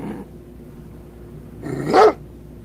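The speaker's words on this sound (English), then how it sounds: "As we have this obviously real life, not generated by AI video here of Kaya the dog" A dog growls low and quietly, then lets out one short, louder snarling bark near the end.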